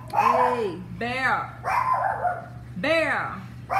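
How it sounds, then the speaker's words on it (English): A dog barks repeatedly, close and loud, a handful of sharp barks in an uneven rhythm while a person shouts over it. "Sorry about the noise with the dog"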